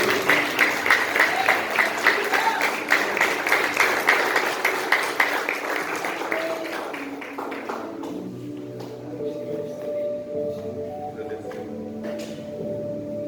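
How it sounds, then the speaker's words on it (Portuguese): A church congregation applauds during an evening worship service, dense clapping filling the first several seconds before thinning out and fading as the room settles, with voices murmuring underneath. "Vamos aplaudir."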